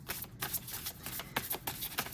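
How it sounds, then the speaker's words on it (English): Tarot cards being shuffled by hand, a quick run of soft riffling flutters and taps, close and faint, with no talking. "I'm just going to shuffle one more time to see what we have for Leo."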